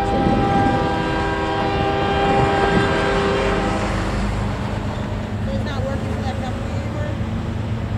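A CN northbound stack train rolls past close by on the Waukesha subdivision. Its loud horn sounds over the first few seconds, then a steady heavy rumble and clatter of passing cars continues to the end.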